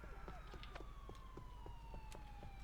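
A faint video game police siren tone slowly sliding downward in pitch, with sharp rapid clicks and pops repeating over it against a low rumble.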